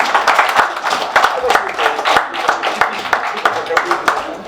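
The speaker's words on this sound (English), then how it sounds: "maybe we can all give them a much larger and longer round of applause" An audience at an iftar party gathering gives a round of applause, close, loud irregular hand claps in a steady patter throughout, with talking mixed in.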